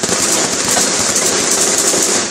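Gunshots fired into the air on a street in Tbilisi, a rapid crackling string of sharp pops in quick succession, loud and dense like fireworks, with no talk.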